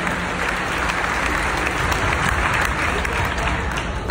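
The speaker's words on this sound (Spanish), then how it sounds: "Aplauso que está presente." An audience at a religious gathering bursts into sustained applause, a dense, steady wash of clapping from many hands lasting several seconds, with a crowd murmur mixed in.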